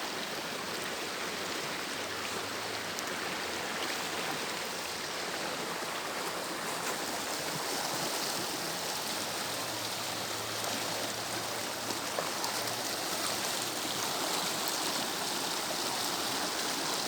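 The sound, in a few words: Kunhar river flowing in Naran valley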